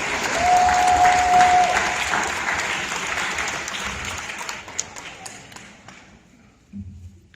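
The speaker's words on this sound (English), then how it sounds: "Students, let's give them a round of applause." Audience applause for parents at a high school awards ceremony, a dense, steady burst of clapping from a large crowd that gradually thins and fades out, with a faint tone briefly audible early on.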